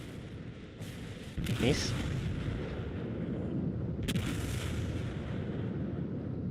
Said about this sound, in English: So I start shooting him with my after turrets